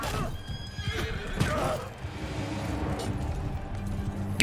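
Horses neighing and whinnying in a Mount & Blade 2 Game of Thrones mod tournament, several loud close calls over clip-clopping hooves and battle clatter, with brief talk.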